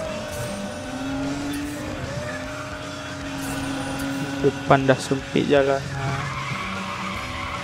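Nissan 370Z AEM Edition braking hard and skidding in Need for Speed The Run, engine drone steady until a burst of loud tire squeals pulses several times near the end, with a voice talking over it.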